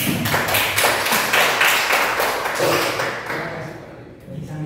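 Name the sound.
audience applause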